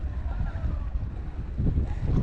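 Wind buffets the microphone in a steady low roar on a rocky Spanish shore at night, with gusts swelling louder toward the end, over the faint wash of water.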